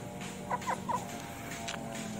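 Three short clucks from a brooding hen that has already laid and hatched a clutch, close and moderately loud over a steady farmyard hum, with fainter bird calls following.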